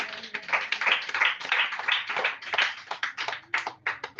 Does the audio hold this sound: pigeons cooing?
no